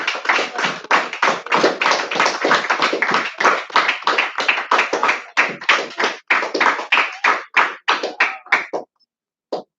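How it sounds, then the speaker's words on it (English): A small group claps in rhythm at a religious teaching gathering, sharp distinct hand slaps in a steady fast beat that falters and stops near the end. "Give him another round of applause"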